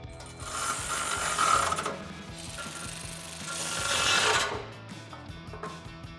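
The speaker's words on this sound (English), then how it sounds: "take a 13mm socket and a 13mm wrench" A 13mm socket and wrench tighten bolts while installing Rock-Slide Engineering step sliders on a Jeep Gladiator JT. The quiet metallic ratcheting and scraping runs steadily, in two fuller bursts.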